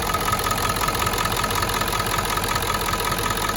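A Ford Powerstroke truck engine, one with a fault that makes it smoke blue and stall once warm, idles steadily and continuously at close range with a low, constant rumble and no speech.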